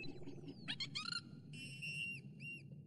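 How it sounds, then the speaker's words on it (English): Dolphin whistles from an animated cartoon, a series of bright chirps and rising, warbling whistle calls, fairly close and alone over a low rumbling underwater background. "Never heard that whistle before,"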